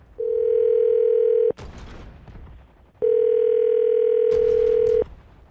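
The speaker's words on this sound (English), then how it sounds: "I'm going to dial her phone number right now." Telephone line during a radio show call: two long, loud, steady single-pitch tones, each ending in a short burst of noisy line clatter, with no talking.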